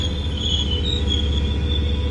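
Train wheels squealing in Train Sim World 4, a steady high-pitched metallic screech held over a low rumbling rail bed throughout, loud and close with no talk.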